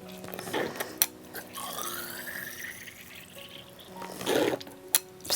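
Water trickles and drips into small flower pipettes as they are filled about three-quarters full, with soft intermittent pouring and a few brighter splashy bursts at close range and no talking.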